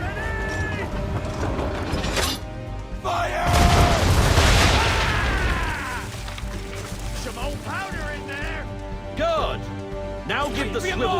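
Ship cannons fire during a naval battle in Assassin's Creed 3, a deep booming salvo that rumbles for a couple of seconds under shouted commands and voices.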